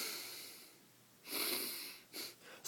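A voice imitates loud, rasping breaths: a long wheezy exhale, then a shorter huff and a sharp intake, close and fairly loud with no talking.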